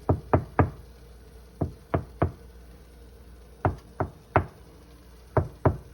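Knuckles rap on the wooden kitchen wall behind a stove in quick clusters of two or three sharp knocks separated by short pauses, close, with no talk.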